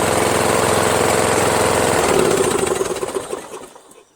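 Toro Wheelhorse 1238XL lawn tractor with a Briggs 12HP flathead engine running loud and steady at close range, then winding down and dying away over the last two seconds.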